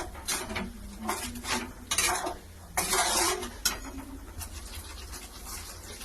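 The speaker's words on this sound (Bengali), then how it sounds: "সর্ষেটা দিয়ে একটু নেড়ে জল ঢেলে দেব" Mustard paste stirred in a pan of rohu fish curry with poppy seed, a spoon clattering and scraping against the metal pan in irregular bursts, close, with faint background chirps and no talk.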